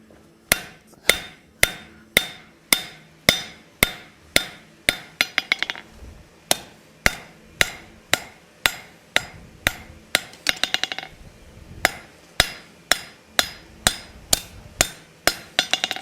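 A hammer strikes hot steel on an anvil while a taper is forged on a simple latch, giving sharp ringing metallic blows in a fast, steady rhythm of dozens of hits, with brief pauses and quick light taps between.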